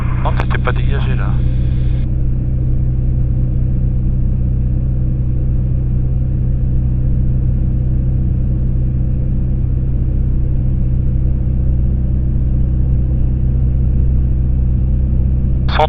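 A Robin DR500 light aircraft engine runs at a steady, loud, low-pitched drone heard from inside the cabin, with brief radio or voice sounds at the start and end.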